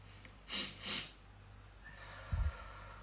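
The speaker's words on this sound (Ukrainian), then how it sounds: "Два коротких вдоха і тривалий видих." Calming breathing exercise: two short, sharp, airy inhales in quick succession, then a quieter, drawn-out exhale, close and alone.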